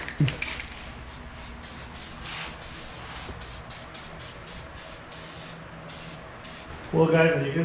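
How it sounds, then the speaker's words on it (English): Copper gasket spray hisses steadily from an aerosol can onto a new cylinder head gasket for a Hyundai Tiburon turbo engine, with soft rhythmic bursts throughout and a voice briefly coming in at the end. "now we're gonna be spraying the copper spray to the cylinder head gasket"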